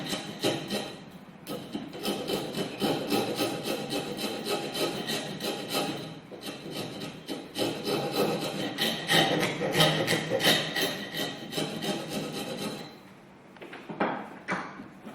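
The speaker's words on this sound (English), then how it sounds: "this is a rasp, and I'm going to use it to cut the excess of wood to finish the edge" A hand rasp files the edge of an elliptical wooden piece, rough scraping strokes repeating in a steady back-and-forth rhythm close up, with a brief pause near the end.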